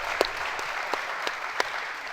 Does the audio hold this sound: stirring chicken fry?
no